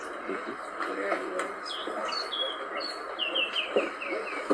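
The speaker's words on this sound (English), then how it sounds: "I think it's singing here. Yellow-bellied greenbird." A yellow-bellied greenbul sings in South African bush, a series of short whistled phrases repeating over a few seconds, moderately close, set against a steady hiss of background insects and ambient noise.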